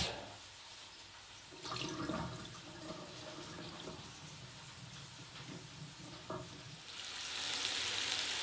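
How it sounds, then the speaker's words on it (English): Meat browns in a hot pan for samp and beans (umngqusho), giving a steady, fairly quiet sizzle and crackle with a few brief clatters, swelling louder toward the end. "Meat's browning quite nicely."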